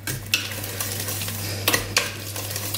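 A spoon stirring 200 grams of butter melting in hot cream for a banana cake, soft scraping with a few sharp clinks against the pot under a low steady hum.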